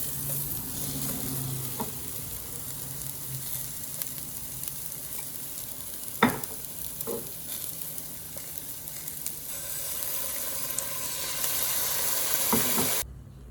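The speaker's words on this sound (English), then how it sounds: "Now we are just going to cook these until they're wilty, so just about 2 minutes or so." Vegetable greens stir-fry in a hot pan until wilted, giving a steady, soft sizzle and hiss throughout. Occasional spatula scrapes and one sharper clack break the sizzle, with no talking.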